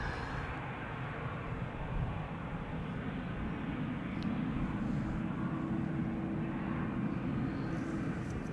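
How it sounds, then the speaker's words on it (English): Boeing 787-10 departing Amsterdam Schiphol, a steady broadband engine roar heard from a distance, with a low sustained hum holding evenly throughout. "This is a 787-10 going to Toronto."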